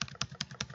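Fingers tap a number on an iPad's on-screen keyboard, four quick, evenly spaced taps in under a second, quiet and close with no speech.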